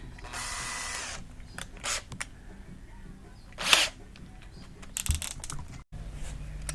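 Power tool setting rivets into new tin fenders on a boat, several short bursts of whirring and sharp snapping clicks separated by pauses, close and fairly loud.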